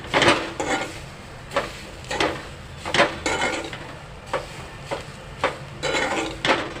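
A spatula scrapes and stirs onion and grated coconut roasting in a pan for Malvani-style masala paste. The close, rhythmic strokes come in a steady series with clattering metal and no talking.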